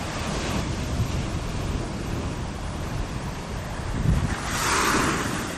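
Rough sea waves crash and roar continuously on a beach, with gusting wind noise across the microphone and a bigger surge swelling near the end.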